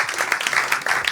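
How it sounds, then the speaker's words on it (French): Brief burst of audience clapping at a stand-up comedy show in a Paris comedy club, a short, lively patter of many hands. "Est-ce qu'on peut l'applaudir?"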